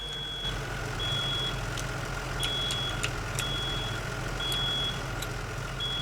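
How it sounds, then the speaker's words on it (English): Fire alarm in a driving video game, heard as a repeating high electronic beep in short intermittent bursts, moderately distant, over a steady low vehicle engine rumble, with no talking. "this one it was a fire alarm going off. So, and I can hear it."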